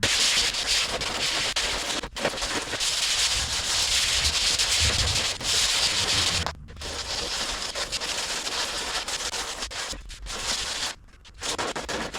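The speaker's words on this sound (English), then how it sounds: "let's get sanding with the 40 grit" Steady, coarse 40-grit sanding on a car body panel, loud and continuous with a few brief pauses.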